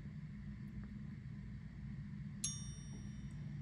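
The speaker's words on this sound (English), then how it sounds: "if you pull out the stem here at the 2 o'clock and you roll it forward, you will be able to hear the chime" A Christopher Ward Bel Canto watch, held close, strikes a single brief, bright metallic chime that rings out and decays over a steady low hum.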